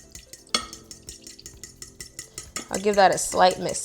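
A metal fork stirs Texas Pete hot sauce into a mixture in a bowl, giving quick, close, rhythmic clinks and scrapes, followed by a voice speaking near the end.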